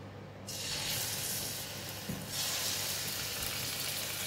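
Chicken pieces sizzle in an oiled pan over low heat, a continuous close frying hiss that swells in places, with no talking.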